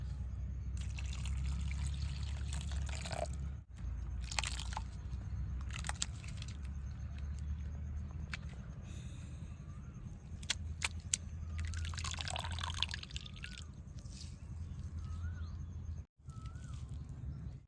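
Water runs in a soft, steady trickle while potatoes are washed clean, faint and continuous with small splashes and clinks.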